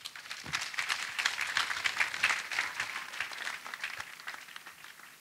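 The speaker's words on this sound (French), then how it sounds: "Acclamation" Audience applause with cheering at a church gathering in Côte d'Ivoire, a dense steady wash of many hands clapping close and loud, holding through the whole stretch with no voice rising above it.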